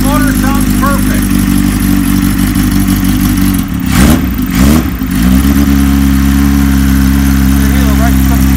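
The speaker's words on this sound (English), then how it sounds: "The motor sounds perfect." A 1975 Kawasaki Z1 900 in a Rickman frame, started cold after sitting a couple of days, runs with a loud, steady close idle and a brief throttle blip in the middle.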